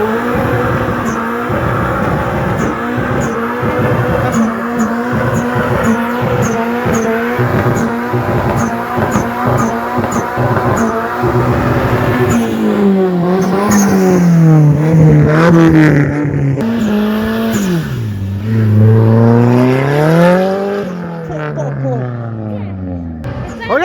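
A Nissan drifting, its engine revving hard in rising and falling sweeps while the tires squeal continuously, loud and close, with a voice talking over it.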